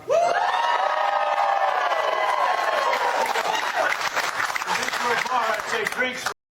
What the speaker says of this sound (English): They're over here cheering for a burger.